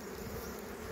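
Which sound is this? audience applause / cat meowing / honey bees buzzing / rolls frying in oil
honey bees buzzing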